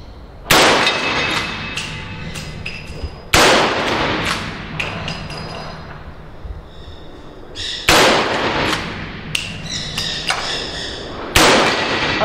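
Five sharp gunshots fired in a timed shooting-range drill, spaced irregularly over about twelve seconds, each a loud near crack with a short ringing tail and a faint metallic clink between shots.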